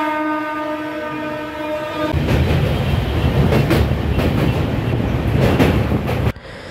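The Kanchankanya Express with LHB coaches sounds a long, loud, steady horn, then rumbles and clatters heavily close by along the platform before cutting off abruptly.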